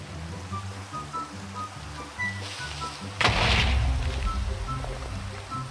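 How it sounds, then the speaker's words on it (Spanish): Rain falls in a Minecraft survival game as a soft continuous hiss under quiet background music, swelling to a louder wash of rain partway through. "¿no se va a quitar la lluvia, en serio?"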